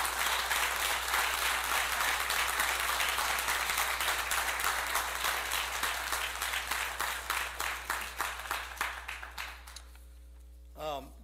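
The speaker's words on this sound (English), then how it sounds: "a round of applause for that, actually." Meeting audience applauding, dense clapping that starts strong and gradually thins to scattered claps before fading out, a brief voice at the very end.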